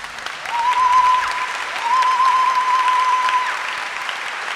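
A church congregation at a farewell Mass gives Father Gauthier a standing ovation, a loud, steady wash of clapping from many hands that holds throughout, with a faint sustained tone running through it.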